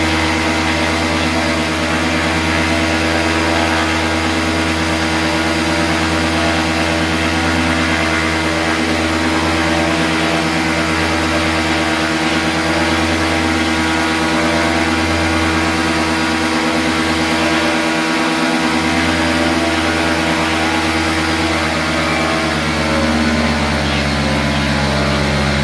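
A paramotor engine running continuously during paramotor training, a loud steady close propeller drone with a slight shift in pitch partway through, no talking heard.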